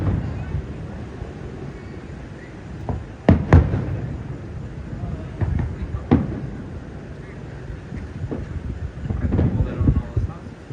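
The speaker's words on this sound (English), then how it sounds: "People love fireworks." Fireworks burst outdoors at night as scattered booms and pops, a couple of sharper close bangs among duller distant ones, while people chat nearby over the show.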